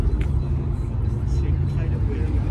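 A classic Triumph car drives past at Place Vauban, its low engine rumble steady and close under someone talking.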